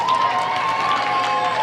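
A school gym crowd at a 7-1A regional championship applauds and cheers the Wolverines coach, giving a continuous, loud wash of clapping and voices.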